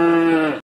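A single loud, close moo, a short bellowing low call that cuts off abruptly, with nothing after it.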